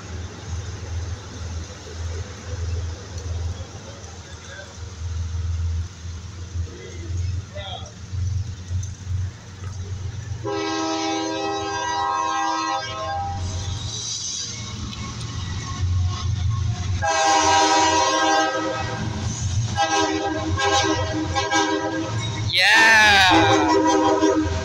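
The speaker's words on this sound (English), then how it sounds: "We got a train coming." CSX freight train led by an ES44AH locomotive passing through downtown Dayton, Ohio: steady low rumble builds into loud engine drone and rolling wagon noise, with a rising horn-like tone near the end; a voice is heard early on.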